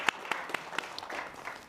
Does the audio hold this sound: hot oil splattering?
no